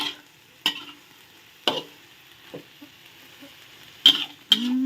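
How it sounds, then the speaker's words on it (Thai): Chicken with ginger and vegetables stir-fried in a pan: several sharp spatula scrapes and clanks punctuate a faint background sizzle, spaced irregularly and heard close. "ผัดให้มันยุบจ้ะให้ผักยุบจักน้อย"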